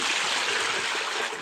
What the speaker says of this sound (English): So as you can hear the water crying,